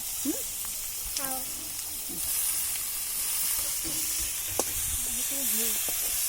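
Tomatoes hit hot oil for a Vidarbha-style cauliflower bhaji and set off a steady, close sizzling hiss that carries through the whole stretch, with a few soft voice sounds faintly underneath.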